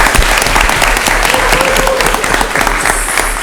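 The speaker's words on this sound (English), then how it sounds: "Let's give them a round of applause." Sustained applause from an audience at a parish council meeting, steady dense clapping that fills the room for several seconds without pause.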